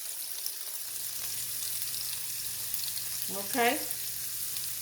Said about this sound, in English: I'm gonna put my onions in here